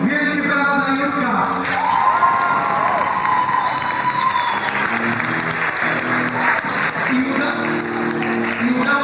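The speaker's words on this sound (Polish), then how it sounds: "ja bym proponował wielkie brawa dla Jurka" A concert crowd gives a big round of applause for Jurek: dense, sustained clapping mixed with cheers, whistles and shouting voices, loud and close throughout.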